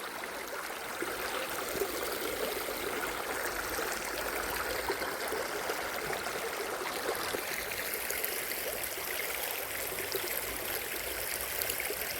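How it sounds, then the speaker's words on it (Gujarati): Steady rushing of river water flowing continuously, a broad even wash of sound with no voices, holding constant throughout. "આજે પાણી હાલ્યું જાય છે મસ્ત"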